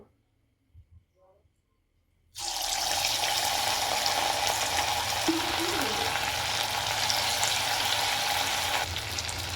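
After a near-silent start with faint taps, a loud, steady sizzle of pumpkin fritters frying in hot oil in a wok bursts in and continues without letup.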